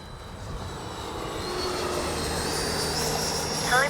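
FMS Super Scorpion V2 radio-controlled jet flying overhead, its steady turbine roar and rushing air building slightly over a few seconds.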